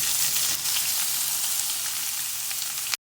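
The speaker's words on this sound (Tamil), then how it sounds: "இப்போ நான் ஆனியன் ஆட் பண்ணி நல்லா வதக்கிக்கிறேன்" Onions sauté in hot oil with crushed mustard seeds and urad dal for a cabbage poriyal, a soft, steady sizzle with faint crackles that cuts off abruptly.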